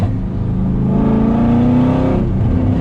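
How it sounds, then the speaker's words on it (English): A deep V8 exhaust on a fifth-generation Camaro SS with an LS engine rumbles loudly nearby, the engine revving up with a rising growl, then easing back down. "I love a good V8, especially the LS, man. They just sound so good."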